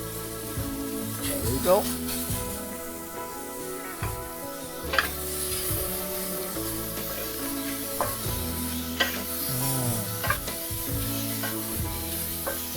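Pork belly sizzling in hot oil in a pan, a steady crackling fry with occasional stirring scrapes, while someone talks over it throughout.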